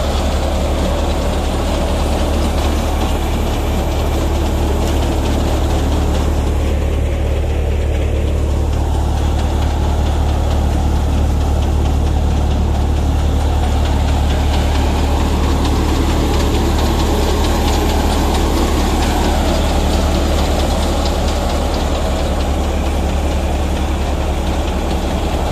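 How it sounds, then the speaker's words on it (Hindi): A Massey Ferguson 241 tractor drives a pearl millet thresher, giving a loud, steady engine drone with a continuous mechanical rumble and clatter, unbroken for the whole stretch and with no talking. "ये बाजरा निकालने की मशीन है थ्रेसर, हमने मेसी फर्ग्यूसन 241"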